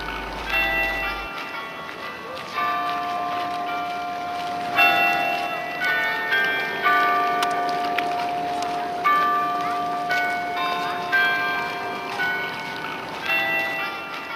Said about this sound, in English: This is the other clock, down on the quay.